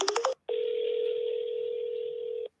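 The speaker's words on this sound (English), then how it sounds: "Let's see if we can get a ring out of it." A telephone call placed on speakerphone: a quick burst of dialing tones, then one long steady ringback tone lasting about two seconds, clear and alone before cutting off.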